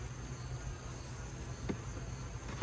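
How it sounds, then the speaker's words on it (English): Honeybees on a hive frame during an inspection make a faint, steady buzzing hum under quiet background noise, with a couple of small knocks near the end. "A couple bees on here."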